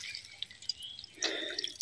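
Water trickles and drips into a village fishing spot, faint and close, then swells into a fuller, steadier flow partway through.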